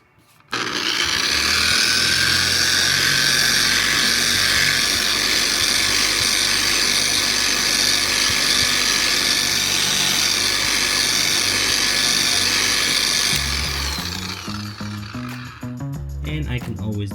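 A loud, continuous whine from a power tool polishing a repaired carbon fiber front lip, running steadily at close range for about thirteen seconds before spinning down at the end.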